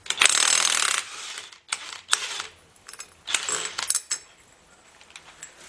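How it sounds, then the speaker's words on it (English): Bursts from an impact gun spin a 1 5/16 nut off a Jeep/AMC Model 20 axle hub: a long loud rattling burst, then several shorter sharp bursts separated by pauses, close and with no talk. "I think the best way to go about it is just with an impact gun"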